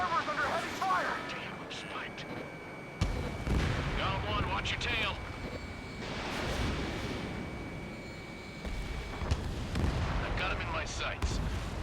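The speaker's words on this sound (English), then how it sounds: "The harbor's under heavy fire!" Heavy gunfire and booming explosions from the Ace Combat 7 video game during an assault on a harbor, dense and continuous with loud bursts, under radio voices talking throughout.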